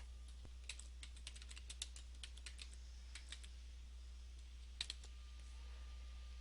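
Keystrokes of typing on a computer keyboard while entering WordArt text in Microsoft Word 2007, a quick irregular run of soft clicks followed by a pause and a couple of final taps over a low steady hum.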